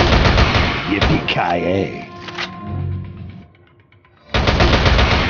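Rapid bursts of automatic gunfire in the Rival Fire shooter game crackle loudly at the start and again at the end, with a spoken line and quieter moments in between.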